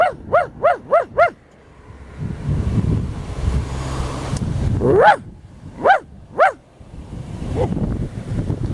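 A dog barks outdoors by the ocean, four quick barks in a row and then a few more scattered ones, with wind and surf rushing loudly between them.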